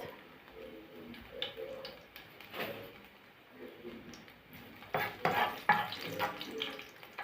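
Five cloves of finely chopped garlic fry in a pan for moussaka. The crackle is soft and uneven, with stirring scrapes and clinks that grow louder and busier toward the end.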